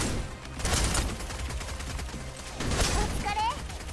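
Rapid bursts of gunfire from the video game Snowbreak, dense volleys over a noisy game mix with a swell near the end, under speech.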